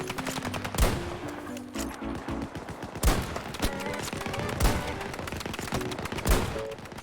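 Rapid automatic gunfire from the video game Battlefield 2042: dense, continuous bursts of loud shots with heavier cracks recurring every second or two, and no talking over it.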